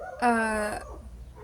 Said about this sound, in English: Oh my gosh, the dogs.